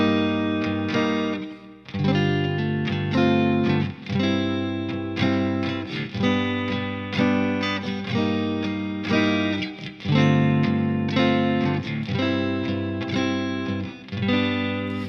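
Sustained chords ring out on an electric guitar in drop D, each held over a low G pedal point in a progression, with effects and slight chorus, steady and close with no talking.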